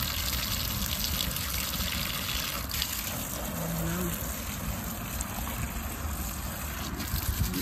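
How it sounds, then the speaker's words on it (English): Garden hose spraying water onto trees in a home garden, a steady broadband hiss of running water that continues evenly throughout, fairly close, with no talking. "I'm just gonna water these trees over there."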